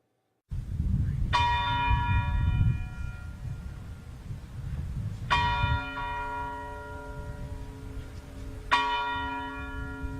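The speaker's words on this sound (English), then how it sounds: "churches around the nation rang their bells 39 times, one time for each year of Dr. King's life." Church bells rung in honor of Dr. King, three loud, ringing strikes spaced a few seconds apart, each decaying slowly over a low rumble of background noise.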